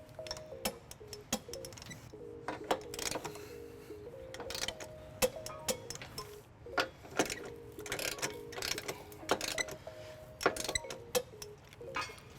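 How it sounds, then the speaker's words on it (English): A ratchet with a 19mm socket and extension tightens and torques trailer hitch bolts on a 2014 Infiniti QX60, giving quick, sharp clicking bursts in irregular runs with short pauses, close and moderately loud, with no talking. "Now we're going to tighten and torque all of our bolts to the manufacturer specification."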